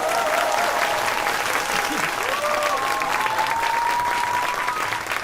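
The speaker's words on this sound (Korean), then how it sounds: "큰 박수로 환영해 주시기 바라겠습니다." A concert audience applauds steadily and loudly to welcome a singer to the stage, a dense wash of clapping with some crowd noise that continues throughout.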